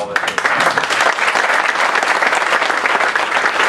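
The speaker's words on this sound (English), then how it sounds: "let's give one more really big round of applause, huge, for Bruce and his team" A crowd claps loudly and continuously at a data center ribbon-cutting ceremony, dense and sustained from start to finish.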